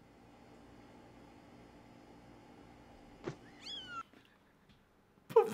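A kitten gives a few short, plaintive meows in the second half, fairly close but soft, over a low steady background hum with no talk.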